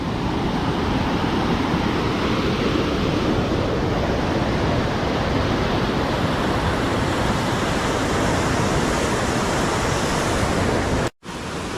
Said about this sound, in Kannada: ತುಂಬ ನೀರು ಫೋರ್ಸಬಲಿ ಹರಿತಾ ಇದೆ